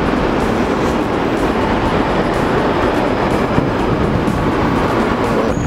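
Continuous loud rumble and roar of a New York City subway train ride, steady broadband rail and wheel noise filling the whole stretch without speech.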